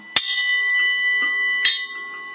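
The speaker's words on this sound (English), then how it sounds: "just a tiny bell at the top so I can get a super clear bell sound." A small, bright bell cymbal on a drum kit is struck twice, each hit ringing with a clear, sustained metallic ping that slowly fades.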